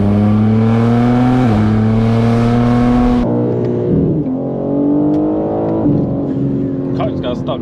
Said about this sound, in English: Car just got stuck spinning.